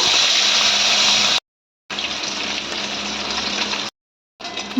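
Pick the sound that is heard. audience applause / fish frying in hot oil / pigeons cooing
fish frying in hot oil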